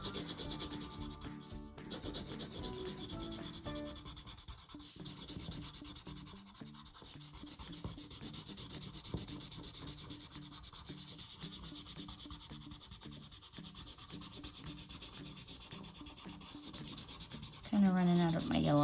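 Colored pencil rubbing on paper while filling in hay or straw, a steady close scratchy back-and-forth shading with medium pressure, faint and continuous.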